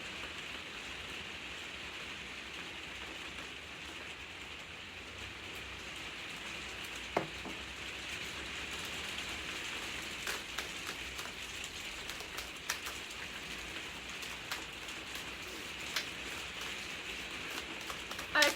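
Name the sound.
heavy rain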